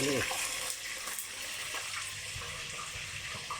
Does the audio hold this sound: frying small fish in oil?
yes